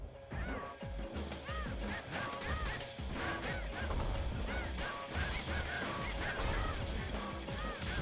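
Bird creature cries in the video game Bastion, repeated honking calls mixed with crashes and impacts from combat, continuous and busy throughout.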